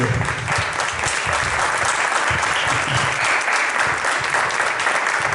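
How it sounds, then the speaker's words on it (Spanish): An audience at a book presentation in Seville gives a performer a strong round of applause, dense continuous clapping that stays loud throughout. "y un fuerte aplauso para Nacho Carrasco"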